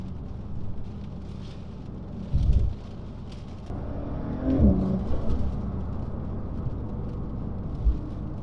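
A 2019 Porsche 911 992 Carrera 4S drives along with a steady low engine rumble and whir, swelling in a few short bursts as it accelerates, heard from inside the cabin.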